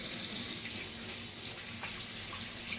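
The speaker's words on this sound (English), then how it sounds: "So I'll start by washing my hands." Tap water runs steadily into a sink as hands are washed under it, a continuous close splashing with no talk, in a home kitchen before a vegetable salad is prepared.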